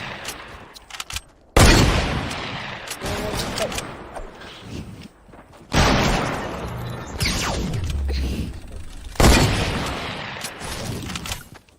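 Covering gunfire in a World War One trench battle mode of the video game Fortnite: sudden loud volleys of rifle and machine-gun fire burst in three waves, each crashing in then rattling on before fading.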